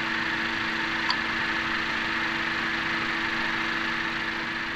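A car engine idles at a steady, continuous hum, with the brake held and the AC compressor engaged, after carbon was cleaned from its combustion chambers; the drone is close, even and uninterrupted.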